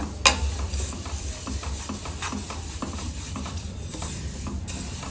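Sesame seeds roasting in a pan, with a steady dry rattling and scraping texture and a faint sizzle throughout, near and continuous with no talk.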